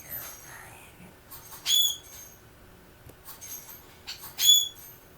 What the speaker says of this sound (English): I gotta get my bird out of the cage first. He's screaming his head off.